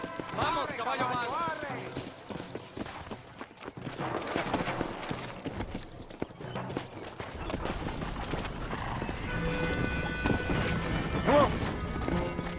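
In the Red Dead Redemption game, a horse's hooves clip-clop along while it whinnies, with crashing bumps and a steady musical score underneath. Spoken game dialogue runs over parts of it.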